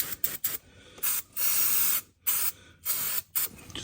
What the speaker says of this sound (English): So now we'll go ahead and clean the area off with some brake clean